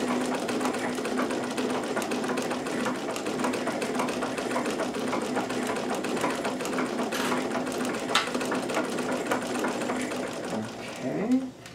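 A Necchi BU Nova WonderWheel sewing machine runs steadily with a continuous whirring hum and fast mechanical clatter of the needle, close and constant, slowing and stopping near the end.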